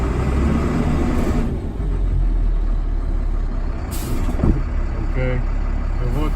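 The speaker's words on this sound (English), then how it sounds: "You pull forward about 5 miles an hour, hold the steering wheel loosely, and put your brakes on." A truck doing a service brake test at about 5 mph, its engine rumbling steadily before a sharp hiss of air brakes, with voices talking nearby.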